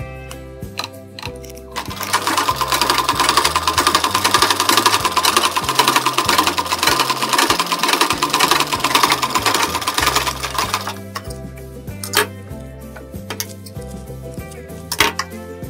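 An electric sewing machine stitches blouse fabric in one steady, loud, rapid run of about eight seconds, with short clicks and quieter mechanical handling before and after. No one speaks.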